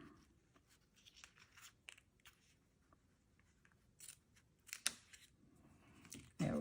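Scissors trimming a paper pop-up card, faint close snips and rustles scattered through quiet with a few sharper cuts near the end.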